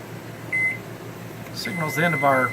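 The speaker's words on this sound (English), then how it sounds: "the timer's just about ready to go off" A kitchen timer beeps while hard-boiled eggs cook on the stove, a short tone sounding once near the start. Talk follows, with room hum underneath.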